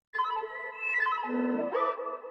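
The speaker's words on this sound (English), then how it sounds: "So it sounds like it's one weird manipulated synth sound that's playing throughout" Two layered synth phrases blend into one warped, manipulated synth tone that holds, slides down in pitch, then jumps back up, sustained and clear with no other sounds.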